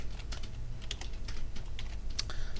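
Rapid keystrokes on a computer keyboard as a write command is typed into a Novell login script, a steady run of close, crisp clicks with no talking.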